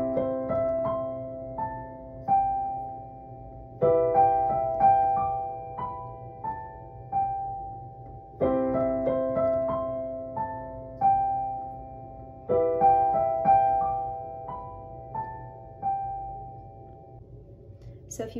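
Low piano notes played in a repeating pattern of phrases, each group of notes ringing and decaying before the next begins, fairly soft and unaccompanied.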